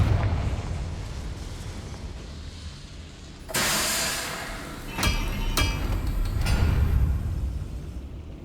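In Hogwarts Legacy, a Confringo fire spell lights a boiler: after a quiet hum, a sudden loud whooshing burst of flame erupts, followed by a couple of sharp cracks and a steady roaring hiss.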